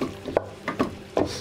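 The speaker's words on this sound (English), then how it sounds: "So give that a good scrape with the old wooden spoon." Wooden spoon scraping caramelised bits off the bottom of a pot of pukeko stew: a few quick, uneven scrapes and light knocks, close and fairly quiet, with no talking.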